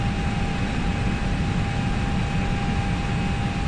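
Steady, dense engine roar of an airplane cruising in a flight simulator game, continuous and loud with a constant tonal whine and no talking.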